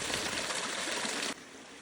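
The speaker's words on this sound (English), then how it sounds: "There's something so magical about hiking through the desert and arriving at bubbling springs." Bubbling spring water at Smith Springs on a desert hiking trail in Guadalupe Mountains National Park, Texas, a steady close gurgle and hiss that drops sharply in level near the end.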